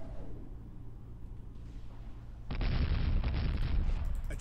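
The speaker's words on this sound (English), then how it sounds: "Fire control. Initiate strafing run." Strafing run explosions in Warhammer 40k Dawn of War with the Imperial Guard against Orks: a low rumbling battle din suddenly swells into a loud, dense barrage of bursts and booms that continues to the end.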